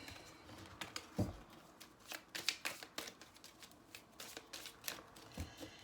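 A deck of tarot cards is shuffled by hand up close in quick riffling bursts and soft slaps, coming in an uneven rhythm over a few seconds of quiet room.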